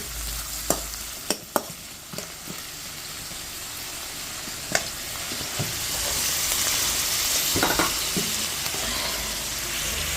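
Sliced onions and two bay leaves fry in hot oil in a pan. The sizzle is steady and close, broken early by several sharp clinks and scrapes of stirring, and it swells into a louder, denser hiss in the second half.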